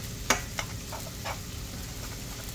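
Semolina roasting dry in a pan for halwa, a soft steady sizzle and hiss with a few scraping stirs and one sharp clink, close and quiet with no talk.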